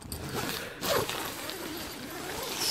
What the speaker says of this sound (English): Zipper goes almost all the way around.